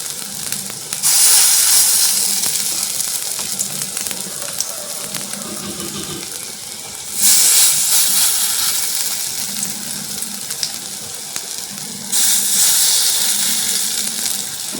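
Bora fritters frying in hot oil give a steady loud hiss and sizzle that swells sharply three times as fresh batter drops in, then settles to a continuous bubbling crackle, with faint background noise beneath.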